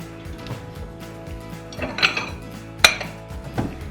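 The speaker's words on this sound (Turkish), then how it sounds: "Ve kahvaltı tabağımızı da buraya koyacağım." A breakfast plate set down on a kitchen counter beside a square frying pan while making spicy sausage and eggs: a few close clinks of crockery, with one sharp clatter standing out over a low room hum.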